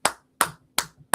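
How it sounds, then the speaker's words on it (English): Four sharp hand claps in a slow, even rhythm, each about 0.4 seconds apart, close and fairly loud with nothing else around them. "Are you hearing clapping? I'm hearing clapping."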